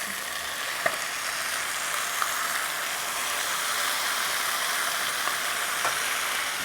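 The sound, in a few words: biryani mix sizzling and frying in a pan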